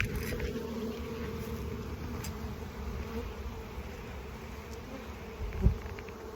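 Honey bees buzz steadily in a hive, a soft, continuous drone heard close and alone, with a brief low thump near the end.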